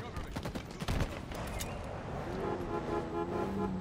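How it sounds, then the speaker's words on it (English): A grenade blast amid gunfire in the Halo Infinite video game, with a heavy thump near one second over steady shooting and game noise, while a player talks over it. "hello, grenade."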